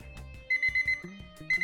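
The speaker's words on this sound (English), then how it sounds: "Timer is up." An electronic kitchen timer beeps in quick repeated bursts, bright and close, over a low background hum, with no voices, marking the end of a coffee cupping steep.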